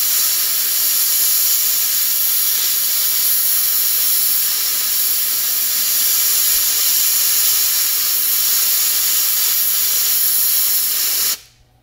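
An airbrush sprays opaque black paint onto a 7-inch wooden lure painted in a peacock bass pattern, giving a steady, loud, close hiss that runs unbroken for the whole stretch before cutting off abruptly at the end.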